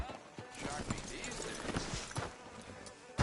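Horse hooves clip-clopping in Red Dead Redemption 2, a steady run of hoof beats under continuous character dialogue in a western town near a sheriff's office.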